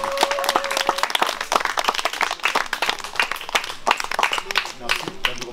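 Church congregation applauding in acclamation of Jesus at an evangelisation gathering, a steady dense patter of clapping with shouts and voices mixed throughout.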